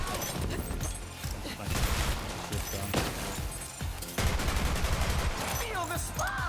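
Gunfire in Borderlands 3 video game combat: dense rapid shots and impacts in continuous bursts, loud and close, layered with crashes and game effects amid a busy fight.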